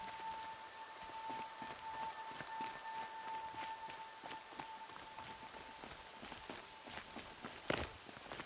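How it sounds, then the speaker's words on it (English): Rain patters across surfaces in a PS4 video game, a soft steady hiss with scattered drop ticks and footstep-like taps, plus a faint tone and a louder knock near the end. "Rain's not so bad."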